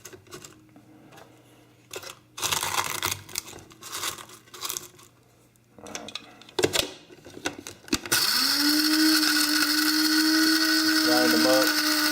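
Egg shells ground in an electric grinder: scattered handling clicks and rattles first, then a loud, steady motor whine with crunching that runs unbroken to the end.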